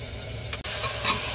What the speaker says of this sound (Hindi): तो भून लेंगे अच्छे से।